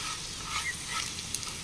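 Potato pieces fry with poppy seeds in a pan, a close steady sizzle with light scraping as they are stirred, no voices.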